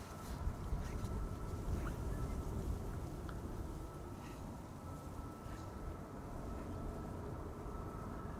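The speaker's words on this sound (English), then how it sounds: "EasyJet A319 arriving from London Gatwick." An EasyJet Airbus A319 arriving from London Gatwick at Amsterdam Schiphol rumbles as a steady, broad jet roar, fairly constant and distant-to-mid range throughout with no voices.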